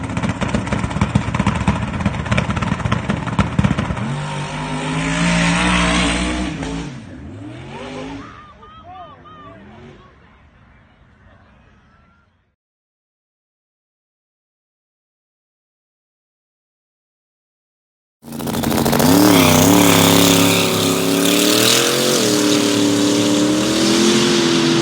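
Methanol-fueled drag race car making early-morning test runs before a race, heard as a loud, roaring engine that fades and winds down, then a gap of silence, then another loud run bursts in.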